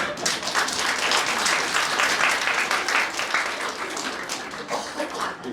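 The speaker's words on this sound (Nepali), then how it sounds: "बेकारमा ताली बजाएर" Sustained applause from an indoor audience at a Brahma Kumaris gathering in Hetauda, a dense, steady wash of many hands clapping at a fairly even level throughout, with no voices standing out.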